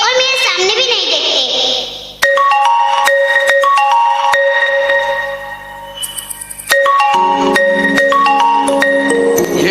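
A mobile phone ringtone plays during a stage drama at a school's annual function, a bright repeating electronic melody that runs steadily for several seconds after a brief opening burst of other sound.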